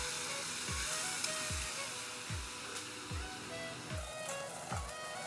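Onion, garlic and ginger paste frying in a pan, a continuous sizzle broken by rhythmic low scraping thumps from stirring, about one per second, with no talk.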